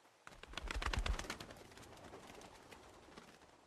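Crows in The Walking Dead Telltale Season 2, a dense burst of flapping wings and bird calls that swells loud and close, then thins into a steady rustling flutter.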